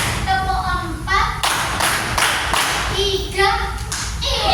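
Children clap together in short rhythmic bursts, alternating with children's voices chanting along in a patterned call.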